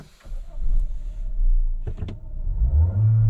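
A Mahindra XUV700 engine starts with a short cranking burst and then settles into a low, steady idle rumble, heard close from inside the car with no talk.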